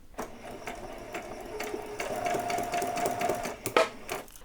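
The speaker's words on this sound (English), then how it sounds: "I'm going to just sew down across, but putting a few stitches in." Halloween dress fabric runs under the presser foot of a sewing machine, whirring in short bursts that build to a steady run of stitches, close and clear with faint background noise.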